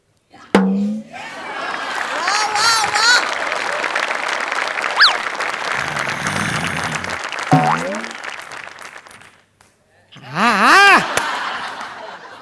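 Studio audience applause at a Marathi comedy show, a dense clapping wash running for about nine seconds with cheers and voices mixed in, a short pause, then a loud fresh burst with whoops near the end.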